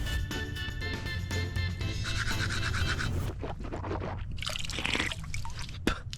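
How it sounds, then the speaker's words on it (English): A portable toothbrush scrubs teeth outdoors by the ocean, with close wet brushing and scratching strokes, dribbling water, and a few small clicks toward the end. "Got a little portable toothbrush with me."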